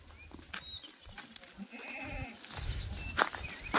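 Kathiawari goats at a goat sale bleat several times, some calls near and some farther off, over a quiet market background.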